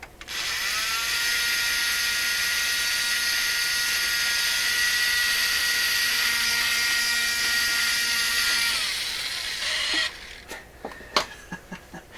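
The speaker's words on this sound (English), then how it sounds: "This is my yard sale vacuum cleaner." A small yard-sale vacuum cleaner, used to clean a Canadian Admiral YS-3610 record player, whines loudly and steadily at high pitch for about nine seconds, then winds down and is followed by a few sharp clicks and knocks.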